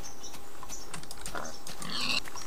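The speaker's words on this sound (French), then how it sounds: "je parle du cochon que j'ai vu par là-bas." A pig in the Minecraft video game grunts in a few short oinks, set over a steady bed of soft keyboard clicks and background noise, with no talking.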